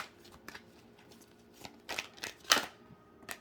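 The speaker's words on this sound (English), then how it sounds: "All right, one more shuffle." A deck of tarot cards being shuffled, quick papery riffles and flicks in short bursts, growing louder toward the end, with no voices.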